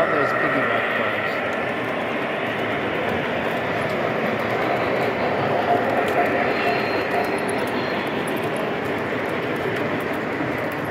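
A model train with piggyback cars rolls along a large modular layout at a science center, giving a steady, continuous rumbling rail noise with faint wheel squeal. Indistinct crowd chatter sits underneath.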